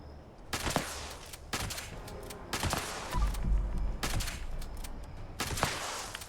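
Gunfire in the Fallout 76 video game: a series of sharp, loud shots spaced about a second apart, each a broadband crack with a short tail, heard alone over a steady low background.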